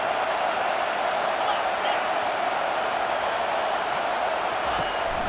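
A stadium crowd in the EA Sports College Football 25 video game roars in a sustained, loud wash of cheering, with a game commentator's voice running over it.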